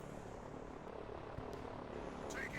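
An interceptor aircraft flies over the front line in a real-time strategy war game, giving a steady, droning engine rumble that holds fairly constant throughout, with a brief faint high whine near the end.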